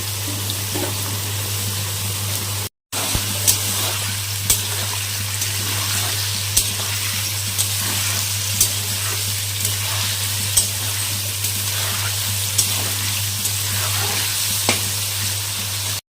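Carrots and other vegetables fry in a pan with a continuous, dense sizzle, broken by regular soft clicks of stirring and a steady low hum underneath.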